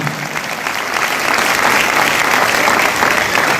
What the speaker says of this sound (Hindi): triple diamond leader mister Ravi sir के लिए भी अभी तक की सबसे जोरदार ताली